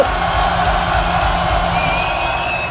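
A hip-hop concert crowd cheers loudly and continuously in a big roaring wash, with scattered whoops and a faint whistle-like tone near the end.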